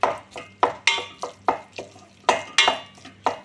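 Minced meat is tossed into a pan of sautéed onion, garlic and tomato paste for spaghetti sauce, with sharp rhythmic spatula scrapes every third of a second over a faint sizzle.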